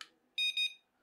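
A homemade 433MHz home alarm built with a Raspberry Pi gives a short, close, piercing electronic beep pulsing three times in quick succession, then stops.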